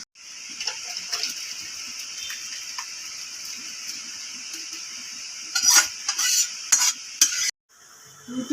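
Tadka dal being stirred in a pan gives a steady, close sizzle with repeated scraping strokes, which grow louder and sharper toward the end before a brief pause.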